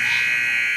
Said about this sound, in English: As the buzzer goes.